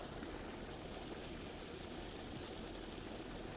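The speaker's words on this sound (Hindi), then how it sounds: "रात के खेतों में जो हमने क्यारी बनाई है उसमें पानी आना शुरू हो गया है।" Irrigation water flows into the beds of a fenugreek field as a faint, steady, even rush of running water with no other sounds.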